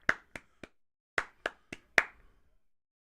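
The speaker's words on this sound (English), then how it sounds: "Slow clap for you guys." A single person gives a slow clap: seven sharp, close hand claps at an uneven, deliberate pace with short pauses between them, alone in a quiet room.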